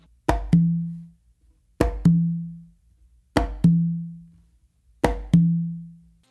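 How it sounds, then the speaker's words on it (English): Four evenly spaced two-stroke figures on a conga tumba, each a sharp palm slap in the drum's center followed by a ringing open tone, played alone in a quiet room with clean decay between strokes. "a close slap or palm slap here in the center of the drum"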